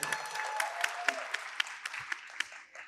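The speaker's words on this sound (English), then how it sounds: "A round of applause, please" Audience applause at an international family planning conference plenary welcoming a speaker to the stage, fairly faint with distinct claps spread across a few seconds, a voice briefly heard at the start.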